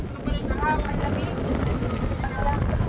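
Steady wind rushes and buffets the microphone while people talk over the gusts by Laguna Lake at Enchanted Kingdom theme park.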